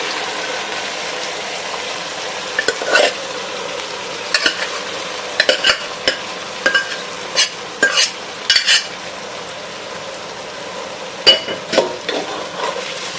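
Boiled jackfruit seeds fry in oil with turmeric in a pan, a steady sizzle with bursts of scraping spatula strokes that come in irregular clusters; no voices.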